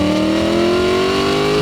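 A 2019 Mustang GT fitted with a VMP supercharger drives along, giving a loud, close, steady engine drone whose pitch climbs gently as it pulls.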